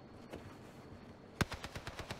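Owen gun fired in a video game, a sharp shot followed by a quick burst of about seven rapid automatic reports, fairly faint overall.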